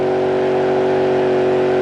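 A race car in the BeamNG video game holds a steady, loud engine drone while doing burnouts, a constant high revving tone with no talk.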